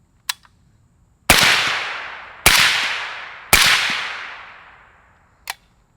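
A 13.7-inch PSAK rifle fitted with a Wolfpack Armory Disruptor 36L suppressor fires three loud, sharp shots about a second apart, heard from close by. Each shot leaves a long, fading tail, with a fainter click before and after the volley.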